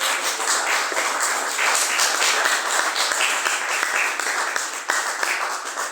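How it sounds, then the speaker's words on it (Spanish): A church congregation applauds at a Spanish-language sermon, producing a dense, even wash of clapping that stays loud and unbroken throughout. "Denle un aplauso al Señor"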